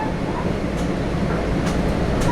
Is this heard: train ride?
yes